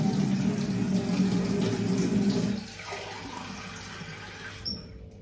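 Water runs steadily from a tap into a sink, a dense splashing flow that stops partway through, leaving a quieter room with a faint clink near the end.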